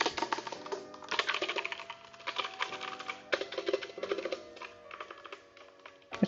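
Typing on a Kreo Hive tenkeyless mechanical keyboard with tactile brown switches, a steady stream of close, crisp key clacks in quick irregular bursts, heard alone without speech.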